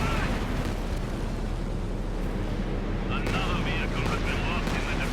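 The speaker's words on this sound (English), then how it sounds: "Here comes the P-47 rocket strafe though." P-47 rocket strafe hitting a building in Company of Heroes 2, dense rumbling explosions and rocket impacts running continuously, with a voice speaking over the barrage.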